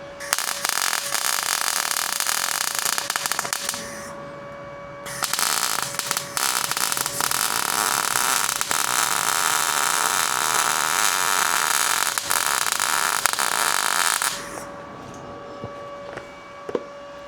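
A UNIMIG Viper 165 MIG welder runs with its wire speed set too high, giving a loud, harsh, steady crackling buzz that sputters for several seconds, pauses briefly, then carries on continuously before cutting off near the end.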